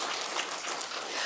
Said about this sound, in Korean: 박수 한번 힘차게.